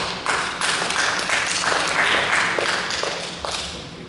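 An audience at a seminar on Sabah and ASEAN essay poetry claps steadily and fairly loudly, a continuous patter of many hands lasting several seconds.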